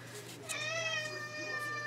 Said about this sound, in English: the cat's being harassed by the dog.